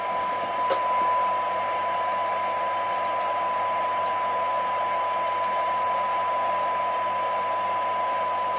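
A tube radio plays a modulated test signal as a steady, continuous single tone over a soft hiss and low hum, with a few faint clicks scattered throughout.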